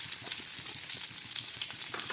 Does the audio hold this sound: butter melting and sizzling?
yes